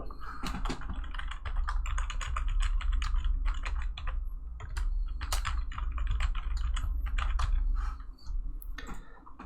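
Keys clack in quick, irregular bursts as a password is typed on a computer keyboard, close and clear with brief pauses between runs of strokes.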